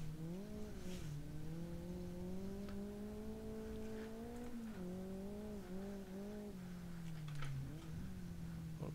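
A race car in the Forza driving game revs hard as it speeds toward a jump, its engine note climbing and dipping with gear changes, loud and close throughout with no talking.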